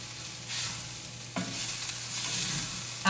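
Hash browns fry in a pan for a breakfast lasagna, giving a steady close sizzle with a stirring scrape partway through and a brief clunk at the end.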